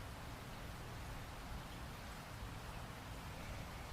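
Rain pours steadily against a cabin window during a rainstorm, a dense, even hiss that stays constant with no gaps and no voices.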